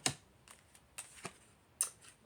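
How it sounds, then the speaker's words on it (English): A tarot deck is cut and handled during a card reading, giving a few quiet, separate card snaps and riffles, each sharp and brief, with near silence between them. "Cut the deck."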